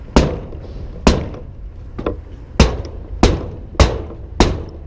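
Six heavy metallic impacts about a second apart, loud and close, each a sharp bang with a short ringing decay, as someone jumps on a stuck Tommy Gate truck liftgate to free it.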